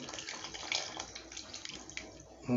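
Tamarind water poured into a pot of simmering ridge gourd sambar, a steady close splashing and trickling pour that runs for a couple of seconds with a slight surge partway through.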